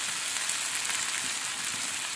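Cooked tapioca fries and is stirred in a pan, giving a dense, steady hiss of sizzling oil, loud and close throughout, with faint stirring scrapes and no talk.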